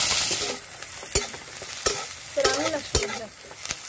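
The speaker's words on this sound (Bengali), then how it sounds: "পেঁয়াজ আর কাঁচা লঙ্কা ভেজে নেব" Onion and green chili sizzling loudly in a pan, with a steady frying hiss broken by several sharp spatula scrapes and clanks at irregular intervals, close up and with no talking.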